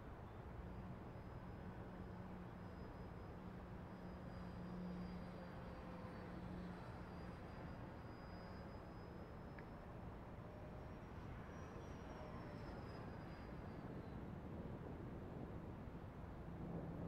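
A Freewing L-39 model jet flies after a nose repair, its faint high whine rising and falling as it passes at a distance over steady wind noise.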